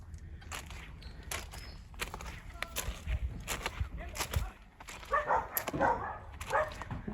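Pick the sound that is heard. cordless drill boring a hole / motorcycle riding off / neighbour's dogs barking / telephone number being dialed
neighbour's dogs barking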